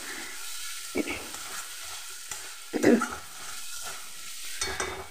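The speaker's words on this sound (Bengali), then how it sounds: "মশলার সঙ্গে চাল খুব ভালো করে ভেজে নিতে হবে।" Spices and rice stirred and fried together in a pan for a Bengali fish-head murighonto, giving a soft, steady sizzle with a few louder scraping stirs near the middle and at the end, with no talk.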